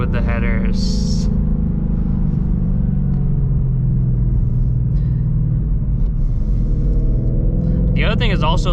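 Ford Mustang GT S650 with FBO setup and headers, its exhaust a deep, steady rumble running continuously throughout, with a brief higher burst near the start and end.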